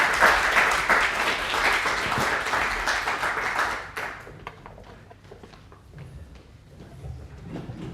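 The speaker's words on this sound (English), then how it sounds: "please join me in yet another round of applause for our speakers now" Audience applause after a scientific talk on ageing and longevity research, a dense roomful of clapping for about four seconds, then thinning into scattered claps and murmurs as it dies away.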